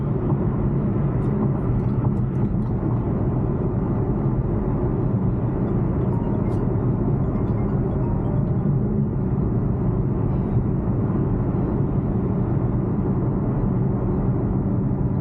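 An Infiniti M37 Sports Package accelerating at about 50 mph, heard from inside the cabin as a steady, dense engine and road rumble that holds at a constant loudness throughout, with no talking.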